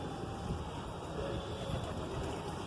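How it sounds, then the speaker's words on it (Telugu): Pigeons coo softly around a temple, their low murmuring calls partly buried under a steady wash of outdoor ambient noise. "పావురాలండి, పావురాలు."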